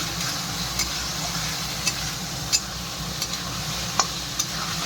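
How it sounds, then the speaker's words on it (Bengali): Potatoes sautéed and stirred with ground spices in a pan for ghugni, giving a steady low sizzle with occasional light scrapes and clinks of a spoon against the pan. "চামচ মশলা, এগুলো দিয়ে ভালো করে কষিয়ে নেবো আলুটা"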